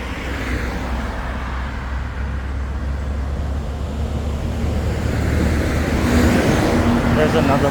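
A bus passing along a road beside Queen's Park Savannah in Port of Spain, Trinidad, a broad road rumble that swells toward the end over steady traffic and wind noise.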